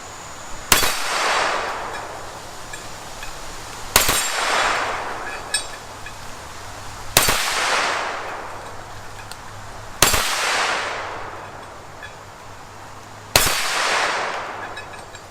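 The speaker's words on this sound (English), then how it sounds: "let's try some double taps in binary mode" AR-9 pistol-caliber rifle fired with a binary trigger at a target about 10 yards away. Five sharp, loud reports ring out about three seconds apart, each one trailing off in a short echo, with no voices.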